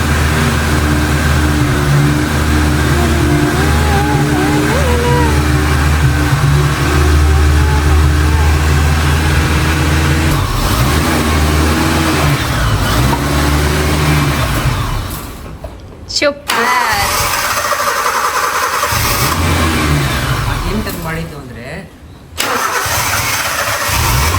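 Jeep with a faulty engine idling roughly, then cutting out twice with sudden drops into near quiet between restarts; voices talk over parts of it.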